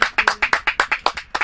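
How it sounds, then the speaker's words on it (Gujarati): Clapping greets a singer at a live jamming concert, heard as about nine crisp, separate claps in a quick, steady rhythm over a second and a half. "તાળીઓ એમના માટે."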